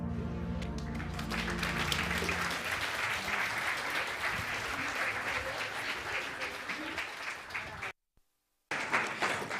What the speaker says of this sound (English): One more round of applause for our Distinguished panelists